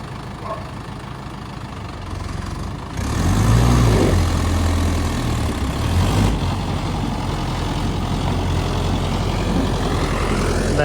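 Rows of tractors at a grain mill late at night, their engines running: a steady, low idling rumble that swells noticeably louder after a few seconds and then holds, with no talk.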